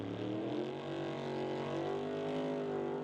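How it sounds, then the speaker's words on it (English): A drag racing Ford Mustang, a Fox Body from around 1989–1990, roars through a burnout with a loud, steady engine drone that holds its pitch throughout, with no voices. "We'll pause for burnouts."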